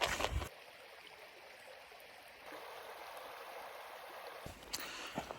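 A small river in front of a bothy in Knoydart, in the Scottish Highlands, rushes steadily as a broad, even hiss of flowing water, with brief rustles at the start and near the end.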